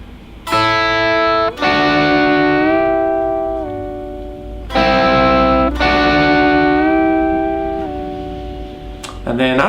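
Electric guitar playing a lick slowly, distorted double stops struck three times with long bends and releases ringing out, loud and close.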